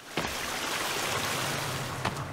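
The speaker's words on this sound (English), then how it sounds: "This rushing water is so loud." Loud rushing water in the video game The Forest, a constant broadband roar running unbroken throughout with a couple of faint thuds near the start and end, no talk.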